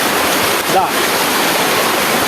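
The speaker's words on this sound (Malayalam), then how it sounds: "ഇത് അമ്പലപ്പാകത്തുനിന്ന് വരുന്ന വെള്ളമാണ്" Floodwater rushing in from the Ambalappadam area makes a loud, unbroken roar of churning water, steady and close throughout.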